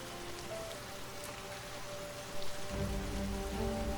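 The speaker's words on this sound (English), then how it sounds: "Oh no, it seems to start raining." Light rain beginning to fall, a soft steady patter of drops on surfaces, faint and continuous, with a low background hum rising toward the end.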